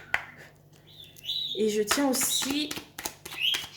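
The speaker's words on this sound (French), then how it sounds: "désolée pour le bruit que mon petit oiseau fait" A small bird chirps and tweets in short bright bursts while someone talks over it.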